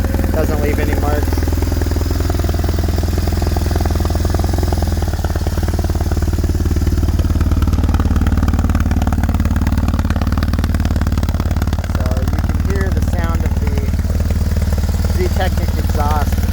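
A 2002 BMW R1150GS motorcycle with an aftermarket Ztechnik exhaust idles loudly with a deep, steady rumble and throaty exhaust, a voice talking faintly over it.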